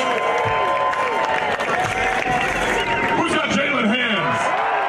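Large outdoor crowd cheering and shouting continuously at the inaugural Under Armour UCLA basketball dunk contest on Venice Beach, a steady roar with claps and whoops throughout.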